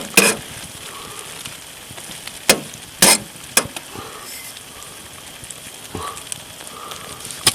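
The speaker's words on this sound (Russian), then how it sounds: "И жарится." Food sizzles quietly in a pan, punctuated by several sharp pops and clanks of a utensil.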